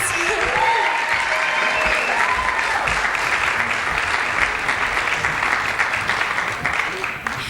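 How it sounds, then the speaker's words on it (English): An audience at a high school Hispanic Heritage Month celebration claps in a dense, sustained round that stays steady throughout, with voices and a few tonal sounds mixed faintly into the crowd noise. "Can we have another round of applause?"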